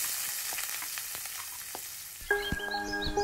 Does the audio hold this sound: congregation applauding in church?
no